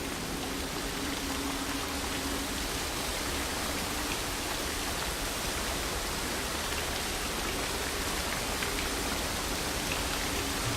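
Rushing waterfall in the game Dear Esther, a dense, steady broadband roar of falling water that holds constant and close throughout with no other sounds.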